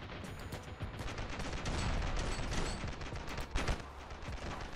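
Rapid, dense bursts of gunfire from an overpowered weapon in the game Ravenfield, a continuous rattling fusillade with sharp cracks, fairly quiet and without talk.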